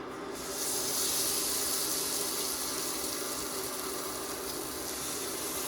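Karimeen (pearl spot fish) fries in hot coconut oil with a steady, close, hissing sizzle that continues without a break.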